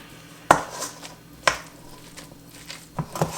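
Italian seasoning, garlic powder, salt and pepper are mixed in a bowl with a utensil, producing a few sharp taps against the bowl and soft scraping in between, close and fairly quiet.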